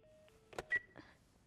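Telephone dialing in The Last of Us Part 1 comes through as a short sequence of faint electronic tones and beeps, a few distinct tone steps followed by brief clicks, quiet and close.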